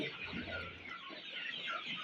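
Young desi chickens, about forty days old, cluck faintly and continuously in a winter farm shed, soft overlapping calls with no speech.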